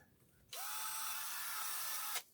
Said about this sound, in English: Let's see if the drill works.